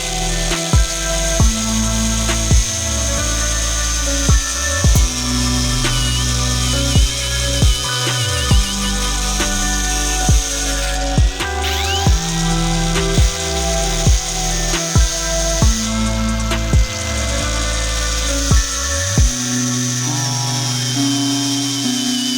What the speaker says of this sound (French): cette petite meuleuse Parkside